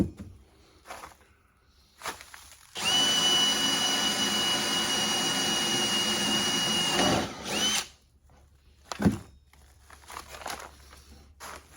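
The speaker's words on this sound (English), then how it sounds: "I'm going to try to drill a hole for a cotter pin" A power drill on a low speed setting whines steadily for about five seconds as it bores a cotter pin hole through a metal pivot piece, with quiet clicks and handling noises before and after.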